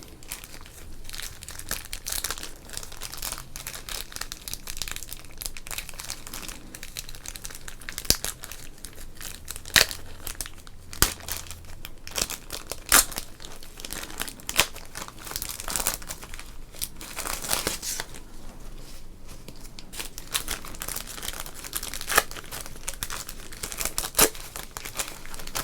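Close, crisp crinkling and tearing of a baseball card pack wrapper being opened, in irregular bursts of crackles and rustles that continue throughout, loud and near with no talking.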